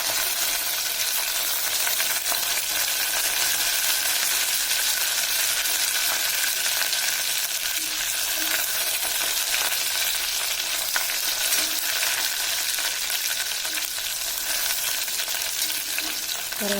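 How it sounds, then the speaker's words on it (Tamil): Curry leaves sizzle and fry steadily in hot oil in a pan while tomato rice is being made, with a constant crackling hiss and occasional light stirring scrapes. "கருவேப்பிலை சேர்த்ததுக்கப்புறம் நல்லா வதக்கி விடுங்க."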